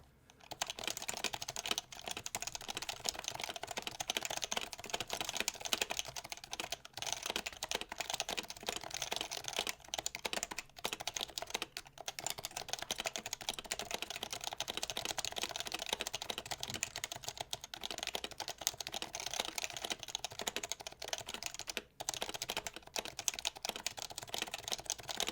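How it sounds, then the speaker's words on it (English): Rapid, dense key presses on an HHKB Professional Hybrid keyboard, a continuous close-miked clatter of keystrokes sustained for about twenty-five seconds with no talking. "I'll just spam some keys with this."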